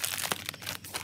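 Dry, papery crinkling and crunching up close, a few short rustling bursts as dried hop cones are crushed in the hand.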